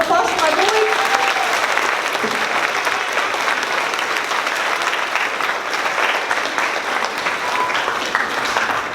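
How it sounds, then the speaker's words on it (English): Sustained applause from a crowd at an elementary school fifth-grade celebration, dense and loud clapping that carries evenly for about nine seconds, with some voices mixed in underneath. "So another round of applause for my boys."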